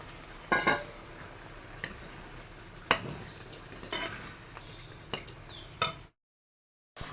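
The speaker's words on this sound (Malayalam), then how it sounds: "ആ ശർക്കര പാനി ഞാൻ ഉരുക്കിയിട്ട് അരിച്ച് വെച്ചിട്ടുണ്ട് ഇത് ഒഴിച്ചു കൊടുക്കാം" Strained jaggery syrup is poured into cooked horse gram and stirred, giving a soft sizzle with scattered scrapes and clinks of a spoon against the pan, close by and moderately quiet, before abrupt silence at the end.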